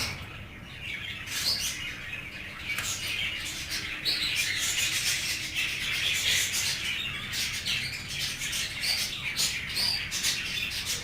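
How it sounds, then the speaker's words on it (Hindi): A rescued Asian koel calls close by in a string of sharp squawks and chirps, repeated irregularly over several seconds with no talking. "ये देखें कोयल।"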